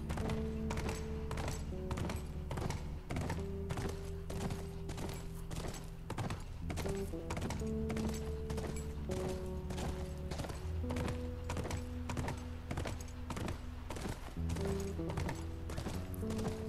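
Horses in The Last of Us walk along at a slow, steady pace, with repeated hoof clip-clops over a low, sustained background drone; no one speaks.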